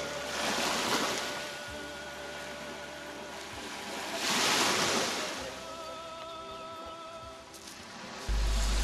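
Waves wash steadily onto the crescent-shaped, pearl-white sandy beach of Cala Luna, Sardinia, swelling into two louder surges, with a light wind buffeting the microphone.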